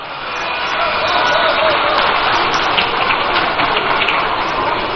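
A large crowd applauds a speaker at a political party manifesto launch rally in Winneba, Ghana, making loud, continuous, rain-like clapping that carries steadily throughout.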